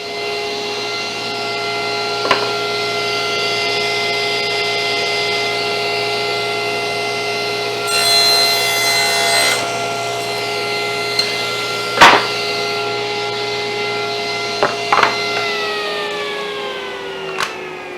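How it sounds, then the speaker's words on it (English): A power saw cuts through plywood, a loud steady motor whine with harmonic tones and a brief rasp of blade on wood, ending as the motor spins down, with no talk. "So let's cut out some more plywood."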